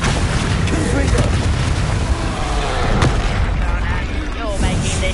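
A Confringo blasting spell explodes in Hogwarts Legacy, a loud, dense boom with a heavy rumbling tail filling the whole moment, with game sounds and a voice mixed underneath.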